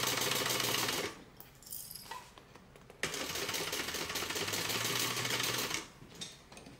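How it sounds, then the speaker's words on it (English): A sewing machine stitches a tote bag handle in two steady, close runs of rapid whirring, with a short quiet pause between them and a brief lull near the end. "Stick that handle in, and then stitch to the other side and pick up where I stopped stitching on the other side."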